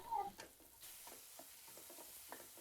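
Ginger and garlic go into a frying pan for a soybean curry, giving a soft, continuous hiss and sizzle with light scraping stir sounds, faint and close, with no talking.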